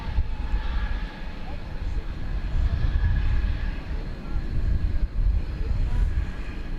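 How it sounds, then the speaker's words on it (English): An Airbus A321 airliner taxis at DFW Airport, its engines giving a steady, fairly distant low rumble and whine that swells slightly, heard alone without talk. "It's an Airbus A321."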